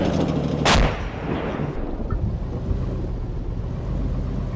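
One loud, heavy weapon blast in the ArmA 2 video game echoes and rumbles away over a constant low droning background.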